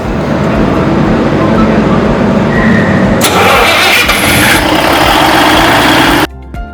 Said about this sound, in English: Push and hold the start button on the generator control panel until the generator engine starts and stabilizes.